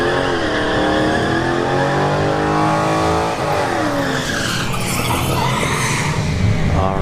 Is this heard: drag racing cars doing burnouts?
yes